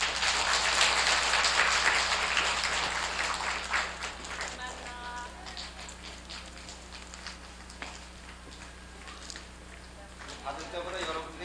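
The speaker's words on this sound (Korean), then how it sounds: "아이들 박수 한번 크게 쳐주세요" Children at a kindergarten graduation clap loudly at first, the applause thinning and fading over several seconds while a voice speaks over it.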